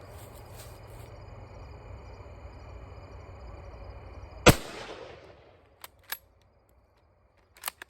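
A single loud, sharp crack from a rifle firing 8mm Turkish surplus ammunition outdoors, its echo trailing off for about a second over a background of insect hum, followed by a few faint clicks.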